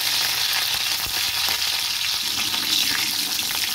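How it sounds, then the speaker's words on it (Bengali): Garlic cloves sizzle steadily in hot oil for a chicken bhapa, a close, even, continuous fry with no voices. "আমি এবার এটার মধ্যে রসুন দিয়ে দেবো, কয়েক কোয়া রসুন দিয়ে দিলাম।"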